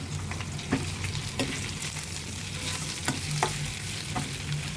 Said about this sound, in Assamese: মাংসখিনি দি ভালদৰে লৰাই লোৱাৰ পাছত গেছৰ ফ্লেমটো অকণমান চিমত ৰাখি 2 মিনিটমান ঢাকি দিম।